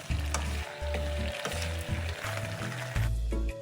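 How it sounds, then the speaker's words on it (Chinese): Chicken feet being stir-fried in a hot wok, loud sizzling broken by repeated scraping strokes of a spatula in an uneven rhythm, close up with no voices. "接着拌炒，让鸡爪均匀上色"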